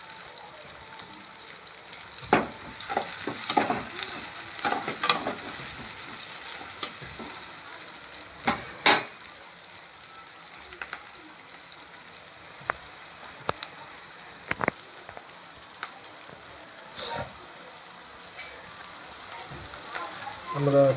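Chopped onions fry in a pan with mustard seeds and fenugreek for a village-style fish curry: a steady soft sizzle runs throughout, broken by scattered scrapes and clinks of stirring.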